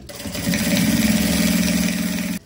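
A sewing machine stitches the seam of a handmade backpack in one continuous burst, a steady whirring hum with a fast rhythmic needle chatter. It speeds up at the start and stops abruptly at the end, close up, with no voices.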